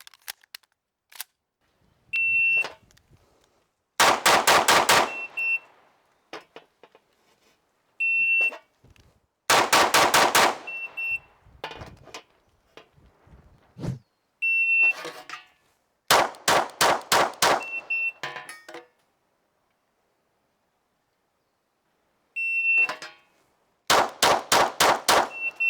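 A Tanfoglio Domina race pistol fires rounds at 7 yards on an indoor range, loud sharp shots in quick clusters, with a timer beep before each string and silent pauses between runs.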